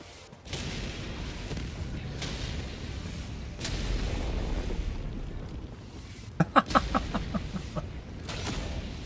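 Orbital barrage strike in Helldivers 2: a run of booming impacts rolls in over a rumbling bed, followed by a quick cluster of sharp blasts near the end, loud and close.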